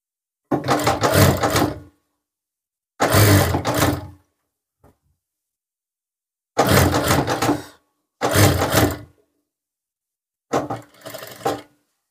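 Sewing machine stitching a gents sherwani collar, running in four loud, close bursts of about one to one and a half seconds each, separated by silent pauses, with a shorter final burst at the end.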